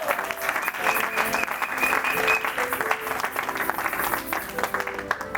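A church congregation at a worship service applauding and cheering for Jesus Christ, steady sustained clapping from a crowd with music tones ringing underneath, loud and continuous throughout.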